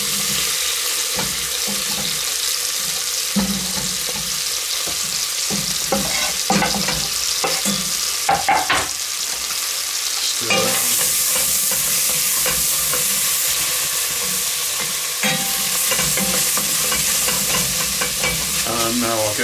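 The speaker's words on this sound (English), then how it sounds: "so let's just get the onion in" Onion drops into melted butter in a pot for red curried sweet potato soup, setting off a loud, steady, close sizzle with stirring scrapes, and the hiss swells sharply partway through and carries on to the end.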